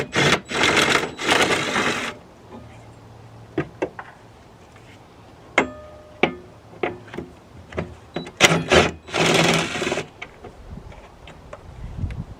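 Two 13mm bolts being undone on the battery bar of a BMW E60 5 Series, with a few bursts of ratcheting at the start and near the end and scattered clicks, knocks and light metallic taps in between.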